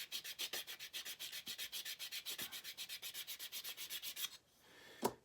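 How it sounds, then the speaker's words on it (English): Sandpaper is rubbed back and forth on a small wooden model airplane part in quick, regular strokes, about thirty rasping passes, before stopping and ending in a single sharp tap. "I think I'm actually going to sand that a little bit more"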